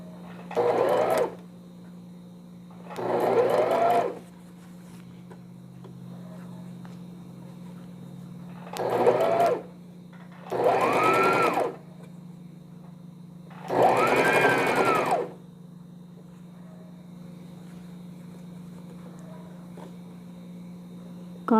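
A home sewing machine stitches a newborn-size '0' vest in five separate runs of steady whirring, each one to three seconds long, with quiet pauses and a constant low hum between them.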